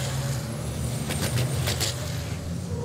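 Racing trucks circle the Hungaroring circuit in a close pack during a European truck race, with a steady low engine drone and brief bursts of hiss, the sound of trucks passing at a distance.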